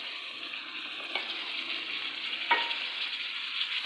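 Tomatoes cooked with turmeric, salt, garam masala, red chili powder and coriander sizzle gently in a pan, a soft steady hiss marked by two brief spoon scrapes as they are stirred.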